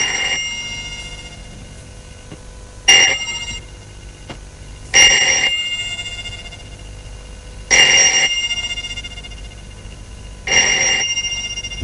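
Telephone bell ringing at night in a quiet room, four sharp, loud bursts spaced evenly a few seconds apart, each ring decaying before the next, with no talk.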